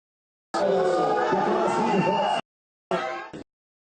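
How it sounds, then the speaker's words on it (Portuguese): Voices in a state legislative assembly in Minas Gerais rise into a loud burst of crowd booing and shouting after a vote result, then cut off abruptly before a shorter second burst. "Quando o resultado foi anunciado, muitas vaias foram ouvidas"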